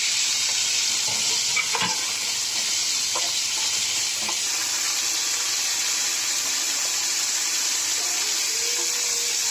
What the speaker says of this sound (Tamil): கேரட் கொஞ்சம் நல்லா வதங்கணும்